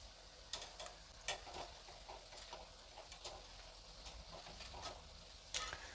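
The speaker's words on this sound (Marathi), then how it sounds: "वडे आपण परतून घेऊया।" Potato fritters for vada pav frying in hot oil, a quiet, steady bubbling sizzle with a few scattered crackles and pops, and no one talking.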